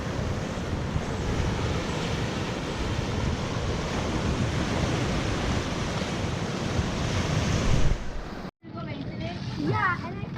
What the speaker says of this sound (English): Waves are kicking